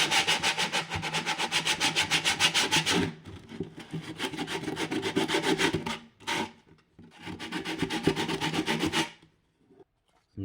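Sandpaper scrubbing ukulele wood in quick, even back-and-forth strokes, close and loud, in three long bursts separated by short pauses.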